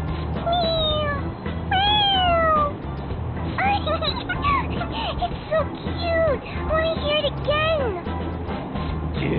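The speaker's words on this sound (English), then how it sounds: "It meows when you press on its head." Toy cat meowing when pressed on its head, a series of repeated electronic meows in quick succession over a busy background with voices, loud and close.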